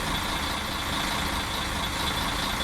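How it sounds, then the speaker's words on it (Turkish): Constant engine and road roar inside a Setra S517 Fernbus coach travelling from Munich to Regensburg, loud, broadband and unbroken, with no voices. "Çok of otobüsün gürültüsü çok fazla geldi."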